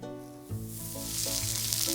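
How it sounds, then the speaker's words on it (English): Fizzing of CO2 generated by pressing a carboxy therapy gel sheet against skin, a faint, close crackling hiss that grows steadily and brightens over two seconds, with soft pops scattered through it. "This is the sound of CO2 being generated."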